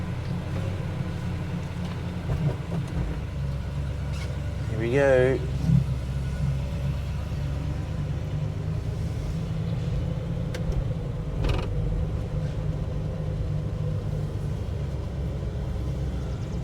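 A Plymouth Barracuda, a classic Mopar, idles smoothly with a steady low rumble after starting, the engine running continuously throughout while someone speaks briefly over it.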